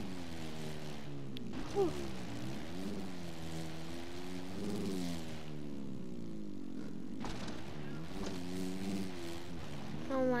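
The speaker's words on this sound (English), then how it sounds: "This bike actually rips." Motocross bike engine in the video game MX vs ATV Legends, a steady buzzing drone with rising and falling revs as the bike shifts through gears, running continuously with a brief exhaled breath from a player over it.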